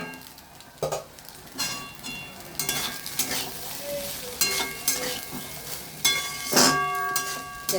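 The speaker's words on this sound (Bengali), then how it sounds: "এবার ডিম দিয়ে দেবো।" Egg frying with rice in a pan, stirred in loud, irregular bursts of metallic scraping and clinking over a softer background sizzle, close by.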